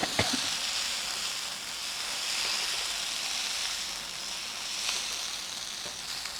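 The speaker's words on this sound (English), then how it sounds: "Nicely stir fry." Chilli mince stir-frying with tomato paste in a hot pan, a steady bright sizzle and hiss throughout, close and continuous with a couple of faint clinks.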